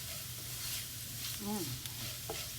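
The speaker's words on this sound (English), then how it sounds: "Saute for 1 or 2 minutes." Spices (black pepper, chili powder, garam masala and fennel seed powder) sautéing in a pan for beef puff filling, a soft steady sizzle with faint stirring scrapes, close and fairly quiet.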